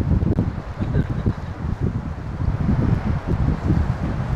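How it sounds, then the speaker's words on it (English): Heavy wind blows across an outdoor lake used for windsurfing, a loud, steady, gusting roar buffeting the microphone without pause throughout. "this is like Heavy wind"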